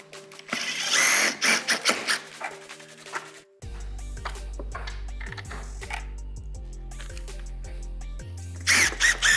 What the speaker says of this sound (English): I'll just take one screwdriver out, take one of our fasteners, drop it in the hole, and just get it started.